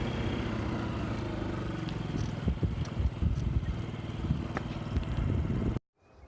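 A motorcycle climbs a hill with a steady mid-pitched engine drone and occasional clattering knocks from the terrain, running continuously before cutting off abruptly near the end.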